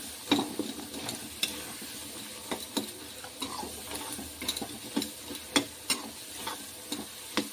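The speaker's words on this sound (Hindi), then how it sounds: "ऐसे धीरे धीरे करके बार बार चलाते रहेंगे, इससे टमाटर बहुत अच्छे से पक जाएंगे" Tomatoes cook down in a pan for kala chana sabzi while a spoon stirs them slowly and repeatedly, giving soft scraping clicks over a low, steady frying sizzle, close by with no voices.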